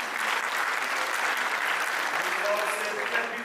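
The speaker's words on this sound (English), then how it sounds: "A big round of applause to FNB." Audience applause at the launch of an RTMC online service, a dense, steady round of clapping from a crowd, fairly close and even throughout.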